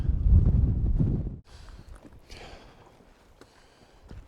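Wind on a mountain hiking trail in the Indian Peaks Wilderness: a heavy, low rumbling gust buffets the microphone for about a second and a half, then eases into a faint, steady breeze.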